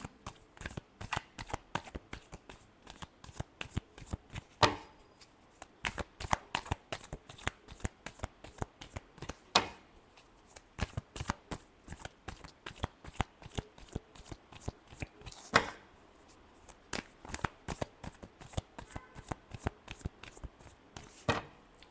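Tarot cards being shuffled by hand, a long run of rapid crisp riffles and slaps in bursts with brief pauses between, close and loud with no talk.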